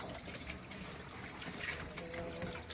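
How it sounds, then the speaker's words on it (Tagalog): Water being poured into a container holding crayfish, a soft steady trickle and splash at close range, fairly faint with light background noise. "Magdadagdag akong tubig"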